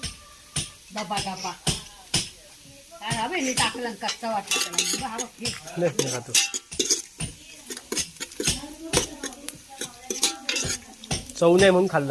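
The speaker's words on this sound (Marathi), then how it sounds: "चांगलं परतून घ्यायचं लाल होईपर्यंत" Chicken sautéing in a pan on a wood-fired stove gives a sizzle under repeated metal clanks and scrapes from stirring, close and busy, with voices talking throughout.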